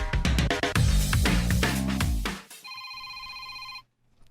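Busy, loud music plays and then cuts out, leaving a telephone bell ringing in a steady electronic tone that stops abruptly near the end.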